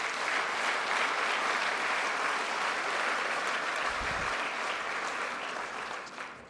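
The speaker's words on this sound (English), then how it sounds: "Let's have a round of applause for everyone who's been involved in this fantastic project." An audience applauds at an outdoor ribbon-cutting ceremony for a new Cornell Tech campus, a dense, sustained round of clapping that holds steady for several seconds before easing off toward the end.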